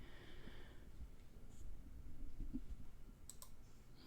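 Quiet computer mouse clicks while setting up an OAuth client ID, a few soft, sparse taps over faint room noise.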